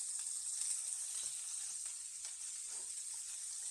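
Steak searing in a carbon steel pan gives a steady, close, crackling sizzle with small pops throughout, with no talking.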